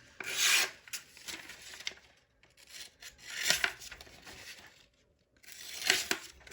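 A Mini Adamas knife with a CruWear steel blade is stropped in three separate bursts of dry, raspy rubbing strokes, close and fairly quiet, with short pauses between them.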